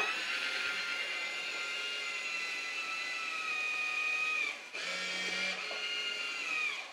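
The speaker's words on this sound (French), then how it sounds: "Ça a soudé ma poubelle, donc ça l'a soudé pile à la taille de ce qu'il faut." A motorized gadget trash can heat-seals its bag shut with a steady, high mechanical whine and layered harmonic hum. The tone briefly drops out late in the clip, then resumes before fading.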